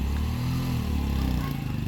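Motorcycle engine running close by, a steady low throbbing drone with a faint rattle, holding an even level throughout.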